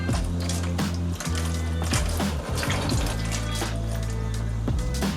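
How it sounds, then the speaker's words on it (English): Water poured steadily from a container into a ham roasting pan, a continuous close splashing, gurgling stream with a slight pause midway, no talking. "Now all I'm really going to do is put a little bit of water in here,"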